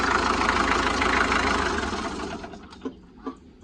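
A Mitsubishi 4D30 diesel truck engine, converted from 24 to 12 volts, idles steadily with a dense low rumble, then cuts out and winds down, leaving a couple of faint knocks.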